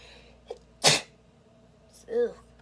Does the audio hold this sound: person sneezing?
yes